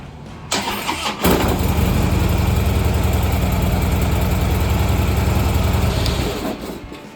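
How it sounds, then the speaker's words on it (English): A Harley-Davidson CVO Breakout Twin Cam engine cranks and fires up, then settles into a loud, steady, rumbling idle close by that holds for several seconds before easing off. "let's warm up the engine"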